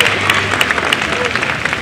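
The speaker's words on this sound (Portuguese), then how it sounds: "uma salva de palmas" Audience applause greets the dubbing director coming on stage at an anime convention panel, a steady dense wash of clapping from a crowd, fairly loud and continuous throughout.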